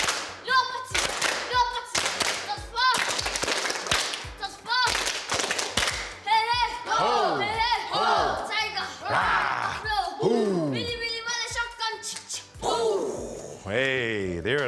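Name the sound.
group clapping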